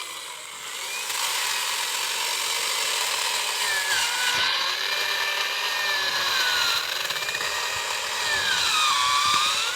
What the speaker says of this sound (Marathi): त्यांचं मशीन आवाज येते लाकडं कापायला